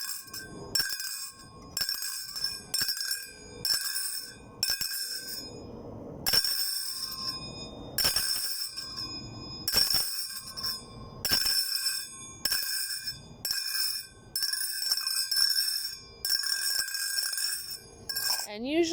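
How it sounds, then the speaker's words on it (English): Tura Sagat finger cymbals are struck together again and again, giving bright, buzzing metallic rings in rapid rhythmic bursts, with a voice talking in the gaps between. "You're bringing the cymbals together, and it's not exactly a ring. It really is a buzz."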